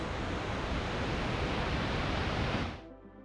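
Sumidero Falls, a waterfall in the Chiapas jungle of Mexico, gives a dense, loud, constant roar of falling water that cuts off abruptly near the end, with no voices.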